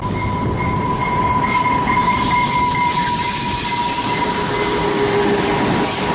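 A train rolls into a station in downtown Eugene, Oregon close by, with rumbling wheels and a sustained high metallic squeal from the brakes and rails, steady and loud throughout.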